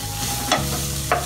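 A spatula stirs salted karadi (bamboo shoot) in a frying pan over a low steady sizzle, with two brief scraping strokes about half a second apart.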